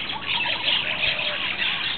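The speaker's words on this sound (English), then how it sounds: "Oh, you hear all the birds." Birds chirping and calling in a park, a busy overlapping chorus of high tweets heard steadily and fairly close with no voices.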